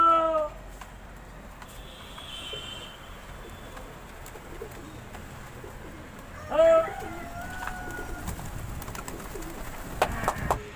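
Pigeons outdoors giving a few soft, low coos and calls over a faint background, with a brief louder flutter of activity partway through and another near the end.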